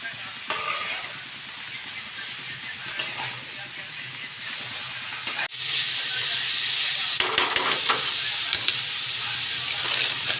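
Food stirred in a hot pan, a steady loud sizzle and steam hiss throughout, with scraping clicks of the utensil growing more frequent in the latter half; no speech.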